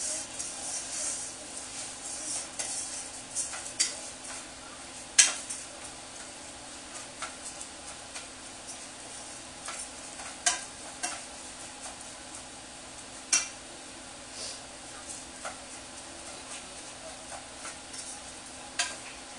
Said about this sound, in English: I'm going to wait for it to start sizzling just a little bit